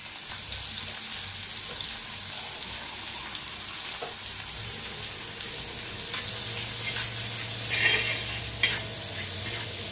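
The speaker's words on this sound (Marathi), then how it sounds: "आता तेल चांगलं गरम झालंय, त्याच्यात टाकूया अर्धा चमचा जिरं, टाकूया बारीक कापून घेतलेला कांदा" Half a spoon of cumin and finely chopped onion fry in hot oil in a kadhai, giving a close, even sizzle with frequent scraping stirs and a low hum underneath.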